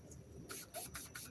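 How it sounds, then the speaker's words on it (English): Pam cooking spray hisses onto a grill in four quick close bursts, each a sharp airy spray of about a fifth of a second. "spray it with Pam, buddy"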